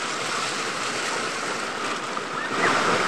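Strong floodwater rushing across a rural provincial road, a steady loud roar of churning water with wind buffeting the microphone, continuous throughout with no talk.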